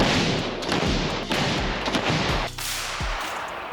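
An artillery gun at a frontline position fires, with several sharp thumping reports over a dense background rumble.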